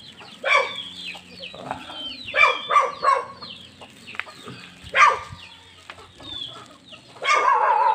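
Chickens cluck in scattered bursts nearby, with several birds calling over a quiet background and a louder flurry of clucks at the end.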